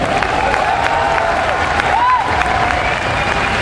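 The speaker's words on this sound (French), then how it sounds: "on peut l'applaudir pour ça quand même" Crowd at a Japan Expo Final Fantasy XIV panel applauding and cheering, a loud wash of clapping with a few scattered whoops over a steady hall ambience.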